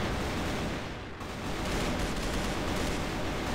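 In the Free Fire video game on the Rocha map, an AK-47 Super Dragon fires in dense, continuous bursts, loud and close, with a brief dip before the shooting resumes.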